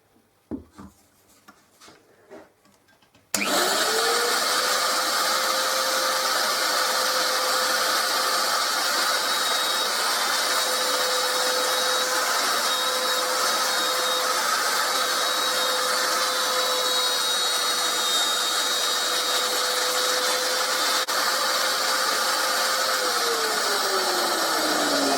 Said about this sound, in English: the base of the router won't get caught on those edges